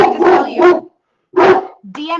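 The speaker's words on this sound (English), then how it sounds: "sorry about the dog" A house dog barks loudly and close by, probably at a visitor at the door. Sharp bursts come in two groups separated by a brief silence, with speech-like sounds mixed in.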